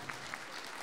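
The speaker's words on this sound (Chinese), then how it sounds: "掌声鼓励。" A crowd claps at a Myanmar–Taiwan fight event after a guest is welcomed. The applause is short and dense, with a steady wash of many hands clapping at moderate distance.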